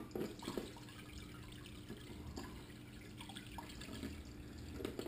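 Water trickles slowly through a six-inch gold sluice box during a cleanup, a soft, continuous wash with faint splashes and small drips, fairly quiet and steady with no voices.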